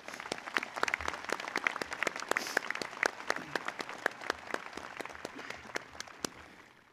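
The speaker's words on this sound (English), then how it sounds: "if you would please join me in a round of applause" A crowd at a 2023 high school graduation ceremony applauds in a big hall, with sharp individual claps standing out near and clear over a continuous wash of clapping.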